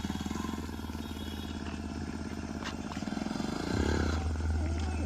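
A motorcycle performing stunts on a road drones and revs nearby, its engine rising in pitch toward the end.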